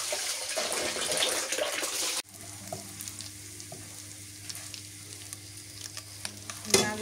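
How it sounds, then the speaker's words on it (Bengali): Small river fish frying in oil, a loud dense sizzle that abruptly drops to a quieter crackling hiss with light scraping and occasional clinks, close by with no speech. "মাছ ভাজা হয়ে গেছে, এখন নামে নেমে নিই।"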